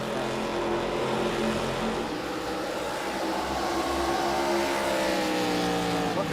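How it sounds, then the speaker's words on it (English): Race car engines drone at Milwaukee Mile in a sim racing game, several cars holding a loud, sustained high-pitched whine with gliding pitch shifts as they run together. "Could you turn down the race noise a little bit?"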